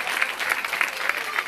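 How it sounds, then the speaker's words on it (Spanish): A short burst of lively audience applause at a community meeting between Mexicali Resiste and people from Cuetzalan, Puebla. Many hands clap steadily at a moderate distance. "Muy bien, fuerte, fuerte el aplauso para el compañero."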